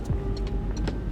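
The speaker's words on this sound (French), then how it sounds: "vous entendez le bruit du clignotant?" A car's turn signal ticking in a steady, regular rhythm inside the vehicle, fairly quiet against a low engine hum.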